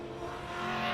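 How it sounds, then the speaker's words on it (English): A 1974 Mitsubishi Galant 2 litre sports sedan race car at Calder Park passes by, its engine note rising steadily over less than a second. "Arriving on the scene there, the Mitsubishi Galant 2 litre."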